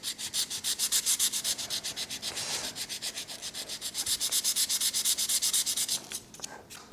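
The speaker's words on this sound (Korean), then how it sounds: "여기 요 부분만 저는 사포질을 합니다." Rapid, rhythmic rasping of sandpaper rubbed back and forth on a penhold table tennis racket grip, loud and close, with a short pause midway before the strokes resume.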